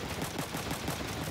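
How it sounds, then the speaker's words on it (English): Rapid machine-gun fire crackles in the video game Front Mission 3, a dense, continuous burst of fast repeated shots that holds for over a second at a fairly low level. "He has machine guns."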